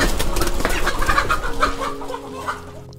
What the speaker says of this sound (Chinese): 我看一下老赵怎么抓鸡的啊